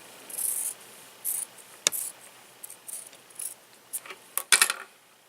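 Scissors snip through the seam allowance of a fabric seam in a series of short, crisp, close cuts separated by quiet pauses, with a few quicker snips bunched near the end.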